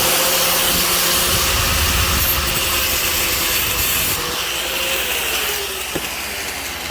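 A metal exhaust pipe from an Onan generator on a 2022 Tiffin Allegro RV is sawed through, a loud close rasping grind that runs steadily and then fades slightly toward the end.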